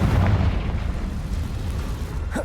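A Confringo fire spell bursts in Hogwarts Legacy with a loud, sustained explosive roar that fills the space and fades slightly without any speech.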